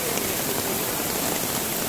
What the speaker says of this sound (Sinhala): හදා දිද්දි වහින්න ගත්තා